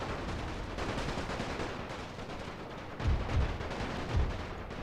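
Gunfire rolls through a World War I strategy game set on the Austro-Hungarian side, a steady crackle of distant musketry with a few heavier thumps breaking through near the end, with no voices.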